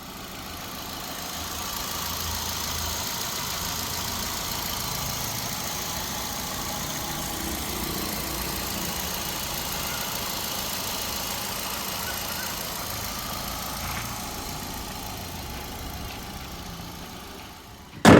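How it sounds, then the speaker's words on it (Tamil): Petrol Kappa engine of a 2012 Hyundai i10 automatic idling, a steady smooth hum held at an even level for the whole stretch, with a brief louder knock right at the end. "வண்டியோட இன்ஜின் நாய்ஸ்லாம் கேட்டிருப்பீங்க"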